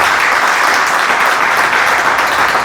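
Church congregation applauding during a service, a loud, dense, unbroken wash of clapping from many hands filling the whole stretch, with no clear speech.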